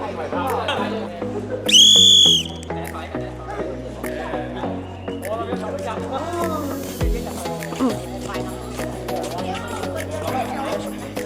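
A single loud, shrill whistle blast rings out during a school volunteer practice in flagging down vehicles. It is heard near, alongside people talking and background chatter that carry on after the blast.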